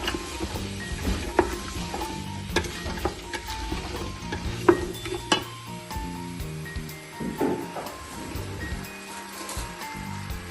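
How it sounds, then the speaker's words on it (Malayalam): A pepper powder spice mix sautés in oil with a steady sizzle, broken by repeated scraping and stirring knocks of a spoon against the pan, close by and moderately quiet. "ഇനി ഇത് എണ്ണയ്ക്കകത്ത് കിടന്നിട്ട് നന്നായിട്ടൊന്ന് വഴണ്ട് കിട്ടണം."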